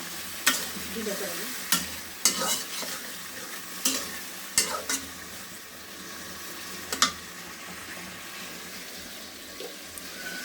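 A winter vegetable curry of five vegetables with tomato and spices frying in a pan, a steady close sizzle broken by several sharp clanks of a spoon stirring against the pan.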